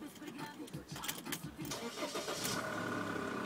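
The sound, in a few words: car engine starting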